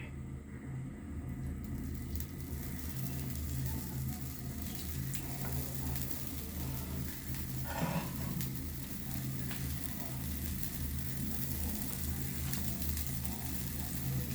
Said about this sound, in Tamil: நாங்கள் தேவையான அளவு எண்ணெயை ஊற்றிட்டு தாளித்து கொள்வோம்